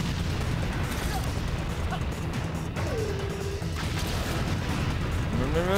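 A submarine fires a barrage of missiles in the video game Viewtiful Joe, a dense, continuous clatter of crashes and booms with rising whistles, loud and close throughout.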